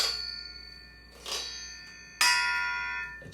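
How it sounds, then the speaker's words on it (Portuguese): A metal floor drain struck as a percussion instrument rings out like a bell, with three separate clear, sustained metallic tones, each fading slowly before the next strike, close and alone. "Esses ralos, eles têm um som maravilhoso."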